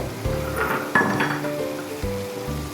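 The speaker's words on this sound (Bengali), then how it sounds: "আমি এবার ঢ্যাঁড়সগুলো দিয়ে দিচ্ছি খুব আলতো হাতে এগুলো আমি নেড়ে দেবো" Okra dropped into a hot pan, with steady frying sizzle and a few clinks and scrapes of a utensil as it is gently stirred, close and fairly loud.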